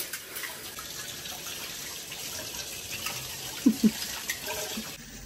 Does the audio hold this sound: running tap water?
yes